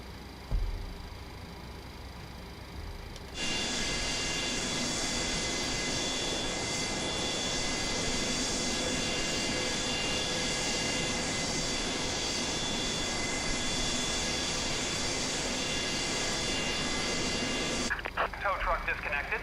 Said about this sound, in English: Just wait on that engine to fire up here